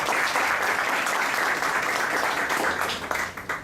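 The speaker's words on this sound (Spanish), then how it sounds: "démosle una bienvenida con un aplauso" Sustained audience applause welcoming a speaker to a talk on volcanic hazard in the Andes of Peru and Ecuador, a dense even patter of many hands clapping at steady loudness, fading slightly at the end.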